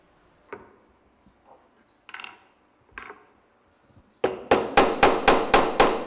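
A copper strip is hammered into a wooden printing block. A few scattered light taps come first, then a rapid, even run of about seven sharp, loud hammer blows close by.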